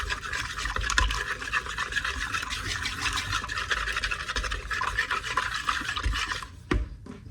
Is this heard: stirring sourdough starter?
yes